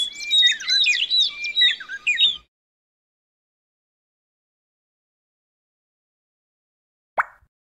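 Cartoon birds chirp in a quick, bright, busy flurry for about two seconds in an iPhone shape builder puzzle game, loud and close, followed by silence and one short pop.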